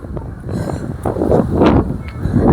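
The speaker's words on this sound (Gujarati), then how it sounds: "પવન ચકીને ખૂબ આવે છે." Strong wind gusting through a village during a heavy rainstorm, a broad roaring rush that swells and buffets the microphone continuously, growing louder toward the end.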